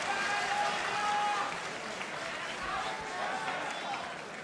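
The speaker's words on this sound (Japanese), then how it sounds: "拍手が起こる、声援が起こります" A boxing arena crowd at a Super Flyweight bout between Seiya Meguro and Keisuke Iwasaki breaks into steady applause and cheering, a broad continuous wash of clapping and voices filling the whole stretch at fairly high level.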